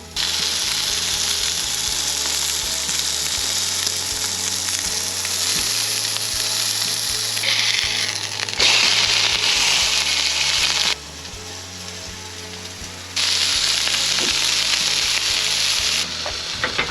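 Mushrooms sautéing in a pan over a campfire stove in the wilderness near Mt St Helens, with a loud, steady sizzle and crackle throughout, broken by brief shifts in intensity.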